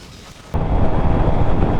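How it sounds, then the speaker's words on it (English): A 2016 Suzuki GSX-R750 motorcycle backfires on a commute, a sudden loud bang that cuts into a heavy rumbling burst lasting over a second, close and alone. "I think my bike just backfired and it scared the living hell out of me."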